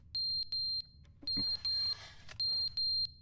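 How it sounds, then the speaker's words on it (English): Fire alarm in the video game The Stanley Parable Ultra Deluxe, sounding as loud, high, steady electronic beeps in evenly spaced pairs and triples, with a brief rustle between bursts. "the fire alarm is going off"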